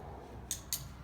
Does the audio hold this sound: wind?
no